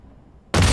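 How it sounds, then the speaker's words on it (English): A grenade detonates in an online first-person shooter match, a sudden loud blast that bursts out of near silence and stays at full roar to the end. "That grenade was like right on him though."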